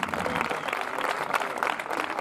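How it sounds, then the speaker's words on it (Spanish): A crowd applauds at an outdoor bullfighting-style cattle-dodging contest, a steady moderate patter of clapping from many hands, somewhat distant and continuous. "Pues un aplauso y suerte"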